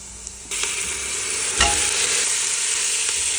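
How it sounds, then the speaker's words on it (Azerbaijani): Boiled meat drops into a pan of browning onions, and the frying jumps into a loud, steady, close sizzle that continues to the end. "Soğanlar artıq qızarır, demək olar hamısı və üzərinə qaynatdığım əti əlavə edirəm."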